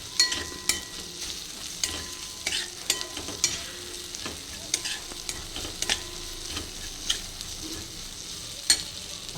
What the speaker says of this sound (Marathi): फोडणीतच 2 चमचे दाण्याचं कूट घातलं आहे मी आणि छान हलवून घेणार आहे एकदम व्यवस्थित.